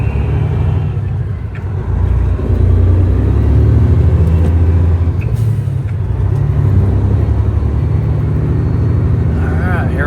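A heavy truck with an 800HP Caterpillar C18 engine hauls an oversize load, its deep diesel drone and rumble close and steady, with a brief air-brake hiss and voices talking underneath.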